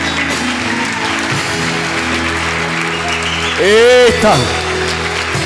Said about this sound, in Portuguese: dar um aplauso para Jesus